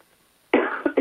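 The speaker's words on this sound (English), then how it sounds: "Sorry, and I'm coughing to the phone." A woman coughs into a phone, a sudden loud burst followed by two shorter harsh coughs in quick succession after a quiet pause.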